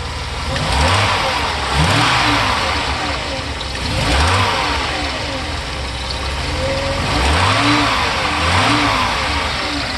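A Mercedes 300SE W126 engine revs up in several rising pulls over a steady running note, with a slight exhaust leak; the sound is close and fairly loud, and no one speaks.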